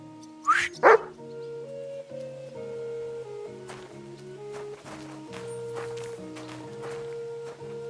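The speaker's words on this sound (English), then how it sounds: "You better call back that dog!" A dog gives two sharp, loud barks close by at the start, then quieter yips and whimpers scatter over a steady background of melodic music.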